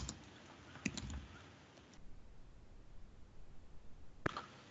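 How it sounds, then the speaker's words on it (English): Typing on a computer keyboard during shell programming: a few scattered key clicks and a short burst of taps, then quiet before one last sharp keystroke, close and fairly faint with no talk. "Now I am pressing I. After that I am typing something."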